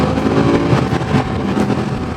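BMW M5 E60 with a naturally aspirated V10 and an F1 exhaust gives a steady, close, fairly subdued engine rumble with no clear revs across the short stretch.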